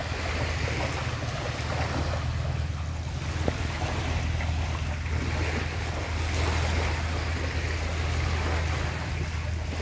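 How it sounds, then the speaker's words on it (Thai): Ocean waves wash steadily near a seaside seafood restaurant, a continuous low surf roar mixed with wind rumble, moderately loud and unbroken throughout. "เสียงคลื่นนี่ได้ยินชัดมากแต่ไม่รู้ว่าในกล้องในไมค์นี้จะได้ยินชัดอย่างนี้หรือเปล่าเนาะ"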